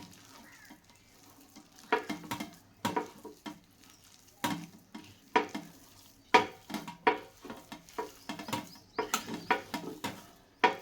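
Potato bajji batter is being mixed with water, giving close, wet, irregular squelching slaps and pats that grow busier and louder as the stirring goes on, with no talk over them.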